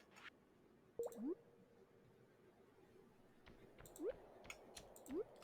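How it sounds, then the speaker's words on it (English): Faint, short rising chirps of a bat sound three times in the Stardew Valley video game, scattered among quiet clicks over a low background. "I heard a bat, which is good"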